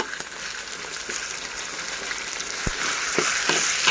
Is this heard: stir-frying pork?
yes